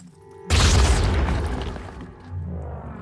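A grenade explodes in the turn-based strategy game Phoenix Point, a sudden loud boom that bursts in after a short quiet lead-in, then rumbles and decays with lingering debris for a few seconds.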